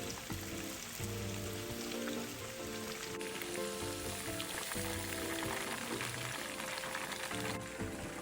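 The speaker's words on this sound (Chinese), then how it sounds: "一直将鸡肉块油炸至7-8成熟，表面金黄色后即可离火。" Chicken pieces deep-fry in oil until golden for chicken rendang, giving a constant dense bubbling hiss under a steady low hum of music, with no talking.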